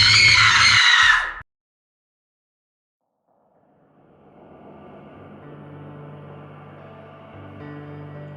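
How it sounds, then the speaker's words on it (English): A woman's scream in a horror podcast dramatization, a loud, sustained shriek for just over a second that cuts off abruptly, followed by silence and then a low, quiet ambient drone building beneath. "and she begins to scream"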